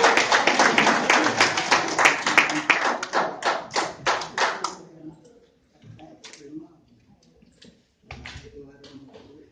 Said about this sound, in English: Let's give Margie a round of applause for her.